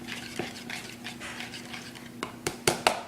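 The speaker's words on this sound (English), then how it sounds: "You have to whisk it hard." A whisk beats thick wing dressing in a bowl with soft, quick, rhythmic strokes, ending in a few sharper clinks against the bowl, close and fairly quiet.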